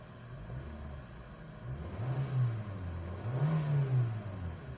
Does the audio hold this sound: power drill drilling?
no